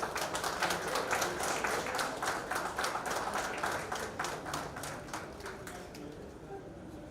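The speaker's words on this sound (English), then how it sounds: "Let's honor them with a great round of applause" Audience applauding at an engineering class silver jubilee event, sustained rhythmic clapping from a crowd in a hall, moderately distant and tapering slightly toward the end.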